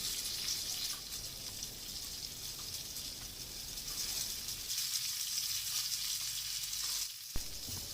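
Eggplant and capsicum sizzling and frying on a hot grill pan, a steady continuous crackle with no talking and one brief knock near the end.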